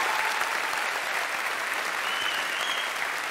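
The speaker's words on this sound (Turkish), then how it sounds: "Bir toplu alkış" Studio audience on a Turkish television talk show applauding steadily, a dense even wash of clapping held throughout with no pause.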